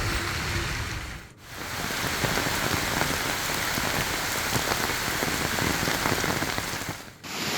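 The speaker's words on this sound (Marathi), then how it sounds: "खोपोली पेण रोहा परिसरामध्ये जोरदार पाऊस कोसळतोय" Heavy monsoon rain pours steadily and loudly in the Khopoli, Pen and Roha area of Maharashtra, a dense continuous hiss and patter, briefly dipping twice before surging back.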